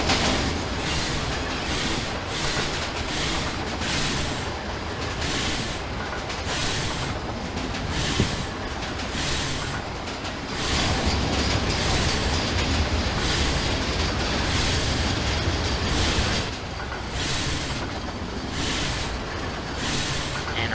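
A simulated train in Trainz (TRS19) coasts downhill with light braking, rolling steadily along the rails with a continuous rumble and rhythmic clickety-clack of wheels over joints, loud and close throughout.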